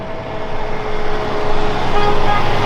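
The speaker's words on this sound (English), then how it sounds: "Let's see if it honks." The horn on a tuned 661-horsepower Honda R34 GT Type R sports car, sounding as one loud, steady, sustained honk out on a street with road noise around it.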